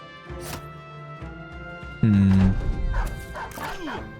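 War dogs in the video game Battle Brothers bark and yelp in short repeated bursts amid combat thuds and crashes, fairly loud and close, with a brief heavy impact midway.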